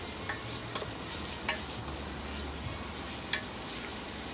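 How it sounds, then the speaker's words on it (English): Onion sautéing in a pot for chicken tortilla soup, a steady quiet sizzle with a few faint stirring ticks, close and continuous with no talk. "we're gonna let this onion saute for a few minutes"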